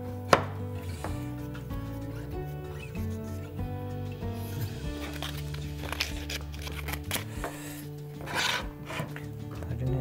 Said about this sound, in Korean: 이거는 세게 때리는 게 아니고 그냥 톡톡톡톡 때려도 들어가니까